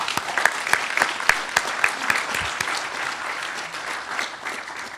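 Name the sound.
applause thanking conference organizers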